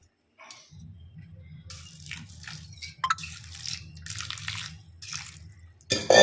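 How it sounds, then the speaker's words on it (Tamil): Water poured from a tap or jug over finely cut agar agar soaking in a bowl, a low running and splashing flow with a few brighter drips, ending in a louder burst of pouring. "இப்போ தண்ணி ஊற்றி இதை ஊற வைக்கலாம்"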